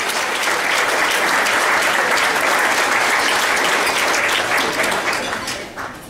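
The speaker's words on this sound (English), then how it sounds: "Big round of applause for Bill." A large audience gives a speaker named Bill Henry loud, sustained applause as he comes up to the podium, a dense even wash of clapping that tapers off near the end.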